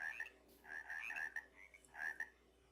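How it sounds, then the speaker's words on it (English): Toads or frogs croaking in the survival game Technofirma: several quiet, raspy ribbits in short bursts, a few per second, repeating irregularly over a faint, hushed night background. "toads, frogs, whatever those things are,"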